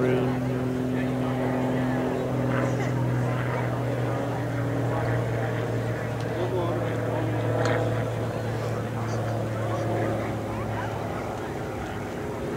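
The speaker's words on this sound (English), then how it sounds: "We got the speed building up out here on the B-1B." A B-1B Lancer bomber builds speed for a high-speed pass at the Joint Base Lewis-McChord air show, a distant, steady jet roar with a low tonal drone that swells slightly, with people talking nearby.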